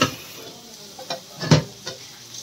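Chicken khichdi masala fries in a pot while a spoon stirs it. A few distinct scraping strokes come at irregular intervals over a faint background sizzle, heard close up.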